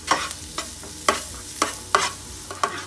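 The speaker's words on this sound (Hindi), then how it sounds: "हमने फ्राई कर लिया है लहसुन, अदरक, प्याज, मिर्च" Onion, garlic, ginger and chili frying in a pan, with a soft sizzle under five or six sharp scraping stirs of a spoon at uneven intervals.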